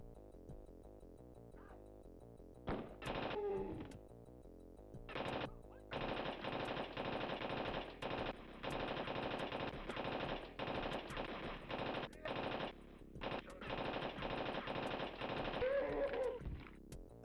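Rapid gunfire in a retro first-person shooter game, with bursts of machine-gun-like shots coming in clusters and sustained runs separated by short pauses, loud and alone.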